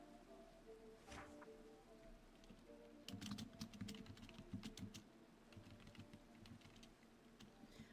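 Quiet clicking of computer keyboard typing comes in bursts of rapid keystrokes, close but faint, with short pauses between runs and no talking.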